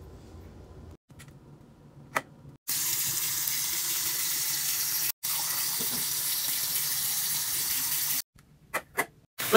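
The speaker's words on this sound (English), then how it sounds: "Look at the beautiful shower, you guys." Shower water runs steadily as a broad hiss for several seconds, starting abruptly and breaking off briefly midway, with quieter room sounds and a few faint clicks before and after.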